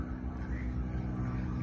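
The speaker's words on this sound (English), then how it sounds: "The small plane is in the air." Steady drone of a small propeller plane climbing away from Frederick Municipal Airport, a continuous moderately loud engine hum heard from a distance without talk.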